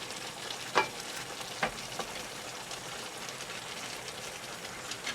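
A pot of fish pepper soup bubbles softly while okra is added and stirred in, with a couple of brief spoon knocks against the pot over a faint, steady simmer and no voices.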